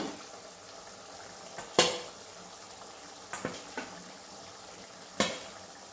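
Eggs dropped into simmering egg curry gravy in a pan, a low steady bubbling with a few sharp splashes and clinks, no talking.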